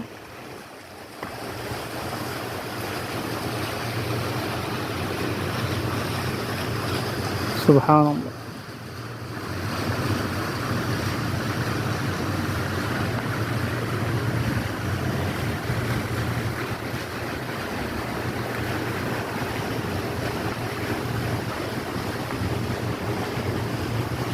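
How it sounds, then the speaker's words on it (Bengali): Steady broadband rushing of water, like a fountain splashing, continuous throughout with a brief sharper noise partway through; no talking. "পানির ফোয়ারা আছে পানি পড়তেছে"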